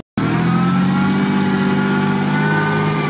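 A UAZ Patriot's engine revs hard and steady while the SUV tows a stuck Unimog off-road, a loud, continuous drone held close throughout with no pause.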